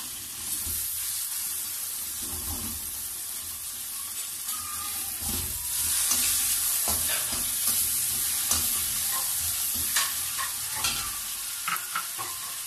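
Tomatoes and garlic fry in masala in a pan for mutton liver kaleji, a steady close sizzle broken by repeated scraping and clattering strokes of a spoon stirring, with no voices.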